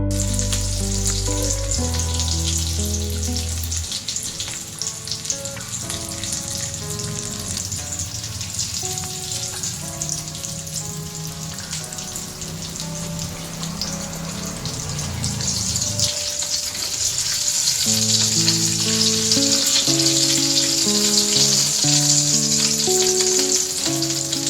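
Breadcrumb-coated paneer deep-frying in hot oil gives a steady, bright sizzle with bursts of bubbling that grow louder partway through, all under continuous background music.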